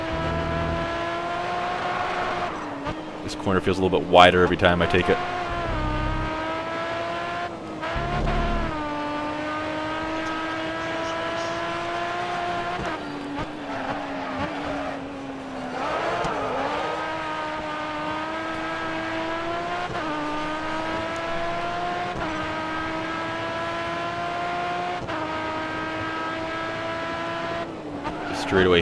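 A racing car engine in the video game GRID: Autosport drones steadily with rising and falling pitch as gears shift, under continuous talking, with a brief burst of tire noise early on.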